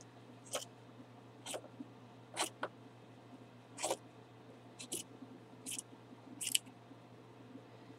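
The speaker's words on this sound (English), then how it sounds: "I don't want that, so I'm going to cut that off." Scissors snip through a square piece of fabric to cut away its ribbing, a series of soft, close crisp snips at an uneven pace in a quiet room.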